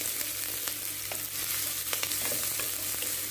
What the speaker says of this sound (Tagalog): kung mainit na yung oil guys, ilagay natin yung sibuyas ha